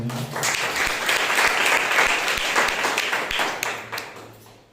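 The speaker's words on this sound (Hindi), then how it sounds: "आइए हम परमेश्वर के लिए जोरदार ताली दें" A church congregation claps loudly and steadily through a Sunday service, a dense, sustained burst of hand claps filling the hall before tapering off at the end.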